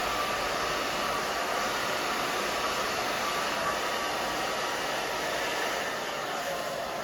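A hair dryer blows steadily and close while drying and styling a stacked A-line bob, a continuous loud whooshing hiss with a high whine and no talking.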